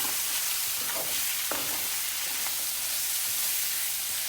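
Peppers, mushrooms and soya chunks get stirred through spices in a hot pan, a continuous close sizzle with a few scraping stirs early on and no voices.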